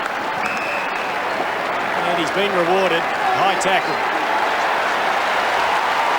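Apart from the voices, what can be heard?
crowd applauding at Australian football match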